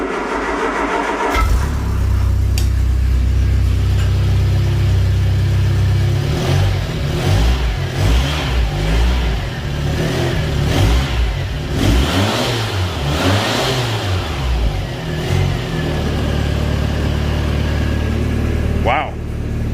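Cold start of a 1975 MG Midget engine: a short crank, then the small engine catches and runs, revving up and down in repeated bursts before settling, close and loud, with a voice speaking over it.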